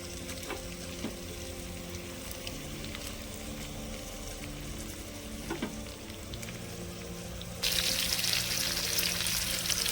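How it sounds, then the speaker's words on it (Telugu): Green chillies, coriander and a piece of onion hit hot oil in a home kitchen pan for a restaurant-style egg tomato curry, giving a steady close sizzle with faint scrapes that jumps to a brighter, louder crackle near the end. "ఆయిల్ వేడైందండి. ఇప్పుడు ముందుగా మనం పచ్చిమిర్చి వేసుకుందాం."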